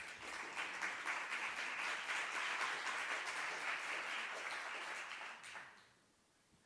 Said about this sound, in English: some applause for our guests here.